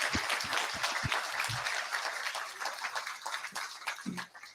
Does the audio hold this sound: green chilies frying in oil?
no